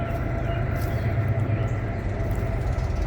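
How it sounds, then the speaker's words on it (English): A train rumbles past in a small town, a steady low mechanical roar with constant broadband rattle that holds at an even, fairly close level for the whole stretch, with no talking. "Train a-coming."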